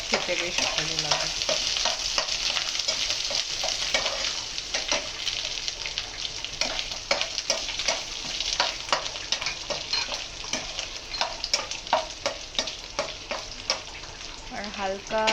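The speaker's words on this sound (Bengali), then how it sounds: "হালকা কাজু বাদামটা ফ্রাই হয়ে গেলে খেতে বেশ ভালো লাগে।" Cashew nuts and grated ginger frying in oil in a pan for paneer pulao, crackling and sizzling steadily up close with scraping stirs throughout, and a voice talking faintly in places.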